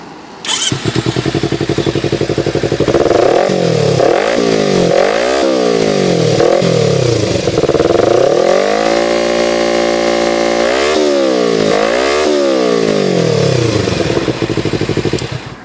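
A Kawasaki Ninja 250 FI motorcycle with a standard exhaust runs close and loud, revving repeatedly in quick rises and falls, then holding a long sustained rev before several more sharp blips over a steady idle.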